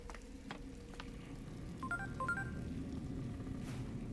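Phone dialing tones from the Digimon Time Stranger video game, a quick series of short electronic beeps in two bursts over a low steady background hum, with no talking.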